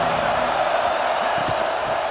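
Crowd cheering in the College Football 26 video game during an Alabama vs. Ohio State matchup: a dense, steady stadium roar that fills the whole moment without letting up.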